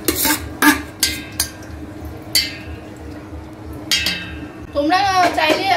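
The remaining cooked rice is spooned into a pot: repeated close metallic clinks and scrapes of a spoon against the pot, with voices talking over part of it.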